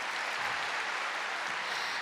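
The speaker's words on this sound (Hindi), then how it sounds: "मधुरवाणी ग्रुप का भी एक बार पुनः जोरदार तालियों से स्वागत है।" Loud, dense applause rings out steadily from an audience at a welcome session in Indore, greeting the Madhurvani group, a continuous wash of clapping with no break.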